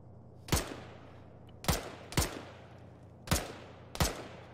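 Gunfire in a military video game set against the Moro Islamic Liberation Front: five sharp, loud shots or short bursts at irregular intervals, each cracking out and then ringing away, with no talk.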